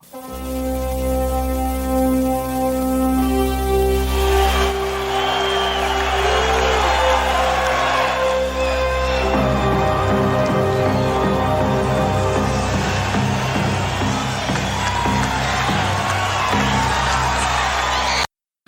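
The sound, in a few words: wrestling crowd cheering during Ric Flair's entrance theme, Starrcade 87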